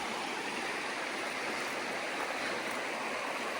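A creek in Spearfish Canyon, South Dakota, flows below a rocky ledge, making a steady, continuous rushing wash of water that stays even and fairly loud throughout, with no voices.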